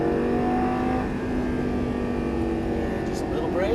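A Lamborghini Gallardo LP550 accelerates on a race track with a steady, droning engine note that rises toward the end, while someone talks over it.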